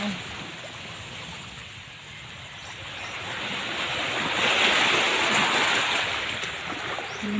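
Sea waves wash onto Tagbagco beach in a steady broadband rush that swells louder toward the middle and then eases, with wind noise on the microphone and no talking.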